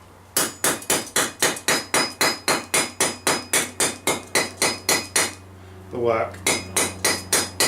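A hammer strikes a steel medieval armour hinge in a fast, even series of sharp metallic blows, loud and close. The blows pause briefly while a voice speaks, then resume.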